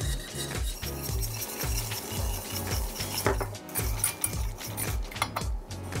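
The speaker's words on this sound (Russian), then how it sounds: "добавляю 100 грамм сахара и снова перемешиваю" Egg yolks and sugar stirred in a bowl with a rhythmic, scraping rasp, about a dozen regular strokes repeating close up, with no talk.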